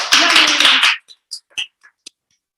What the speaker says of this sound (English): Big applause for Johnny Rare.